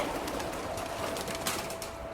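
Pigeons coo in a soft, continuous, overlapping murmur, close by and steady for the whole moment, with no voices.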